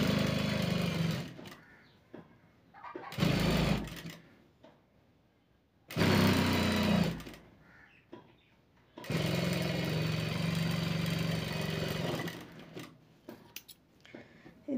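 A sewing machine stitches a long blouse with pleated bracket sleeves, running in several close bursts of whirring with quiet pauses between, the last run longer and steady.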